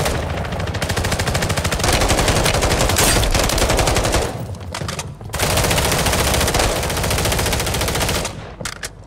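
Sustained automatic gunfire from the video game Warzone rattles in long rapid bursts, loud and dense, with a brief dip near the middle before the firing resumes and then cuts off at the end.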